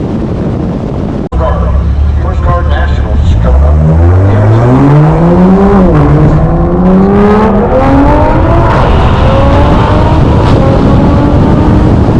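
A loud, close engine rises steadily in pitch under hard acceleration, sustained for about ten seconds after a brief cut, from a Dodge Hellcat in a run against a Tesla Plaid.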